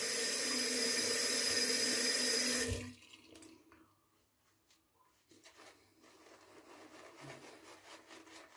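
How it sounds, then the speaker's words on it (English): Water runs steadily from a tap for about three seconds, strong and close, then stops and leaves quiet rubbing and light handling noises from a shaving brush, with no talking. "A little bit of water."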